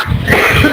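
A single loud, close cough bursts out and lasts under a second, with no other sound around it.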